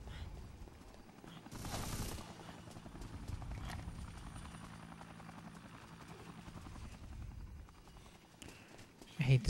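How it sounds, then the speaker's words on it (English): A helicopter drones steadily in the Dead Rising video game, with rapid gunfire bursts and a loud crash early on, the rotor chop continuing under the shooting. "I hate this damn chopper."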